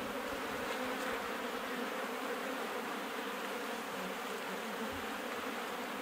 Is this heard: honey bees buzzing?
yes